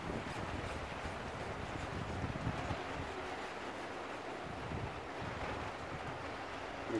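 Broad, constant roar of strong wind on a rooftop in rain, buffeting the microphone, mixed with a wash like surf or rushing water, no voices.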